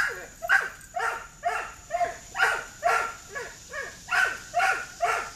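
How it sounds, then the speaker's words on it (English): A German Shepherd barks repeatedly at a steady pace, about two barks a second, somewhat distant and moderately loud, with no one talking. "That barking in the background is an intentional distraction."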